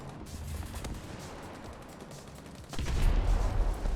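Tank cannon and gunfire in War Thunder, featuring an M1A2 Abrams, rumble in a muffled, distant-sounding battle, swelling to a heavier, louder roar partway through.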